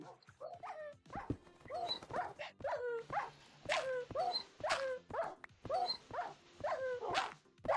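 A dog in Minecraft on Xbox 360 gives a series of short, whimpering barks and yips, repeated roughly every half second to second at a moderate level with no talk over them.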